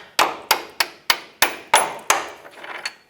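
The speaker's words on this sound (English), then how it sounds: "Take a hammer, hammer the bolt out." Sharp metallic hammer blows knock a bolt out of a 2009-2014 Ford F-150 while installing a leveling kit, about seven in quick succession, loud and close, followed by a softer scraping clatter.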